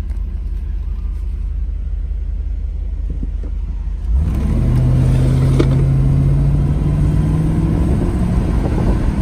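A 1980 Mercedes-Benz 450 SL pulls away from a dead stop: a low idle rumble and faint ticking give way to a louder engine surge and steady rising whine as the car accelerates, heard from inside.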